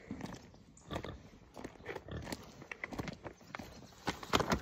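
Pigs on an autumn homestead grunt and snuffle in a busy run of short bursts, with clopping, chewing-like noises and a brief voice greeting them.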